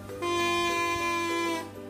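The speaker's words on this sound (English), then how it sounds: "If done correctly, you should hear a loud buzzing sound like this." A straw oboe made from a drinking straw gives a loud, steady reedy buzz with a strong held pitch for about a second and a half, close up and alone.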